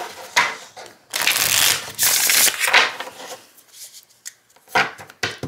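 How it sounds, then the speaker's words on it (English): Crisp riffling bursts of a card deck being shuffled, several quick rounds separated by brief pauses, close and fairly loud. "Let's give it a nice shuffle."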